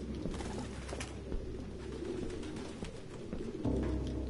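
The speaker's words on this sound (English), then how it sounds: "No human could live with all these fucking pigeons." Pigeons coo in the video game Detroit Become Human, low soft cooing and fluttering over a rumbling indoor ambience, steady and close throughout.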